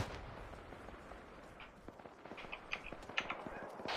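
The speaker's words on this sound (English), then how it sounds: "You're hearing the explosions and everything." Distant explosions and scattered gunfire in the military game Arma 3, faint bursts and sharp cracks popping irregularly over a low background rumble, with no talking.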